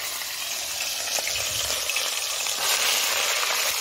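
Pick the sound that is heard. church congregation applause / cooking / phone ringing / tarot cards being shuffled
cooking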